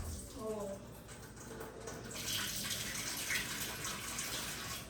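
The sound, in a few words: draining canned corn with water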